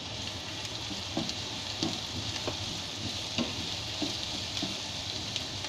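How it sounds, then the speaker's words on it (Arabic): Carrots are stirred with peppers and onions in a sizzling frying pan, a steady hiss broken by soft, regular scrapes and clacks of the spoon, close and alone. "هننزل بقى بالجزر بتاعنا ونديله تقلبتين كده مع الفلفل والبصل"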